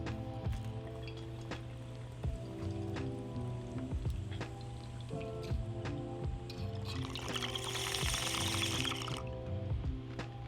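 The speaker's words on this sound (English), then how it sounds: "it's a good amount of water for that bubble to pass through to cool it down" Water in a GRAV glass bong gurgles as smoke is drawn through it, making quiet, irregular bubbling and burbling sounds over a soft background.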